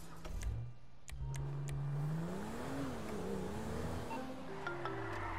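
A car in Grand Theft Auto V pulling away and driving off, the engine rising and shifting in pitch as it accelerates, steady and close with small clicks and game sounds around it.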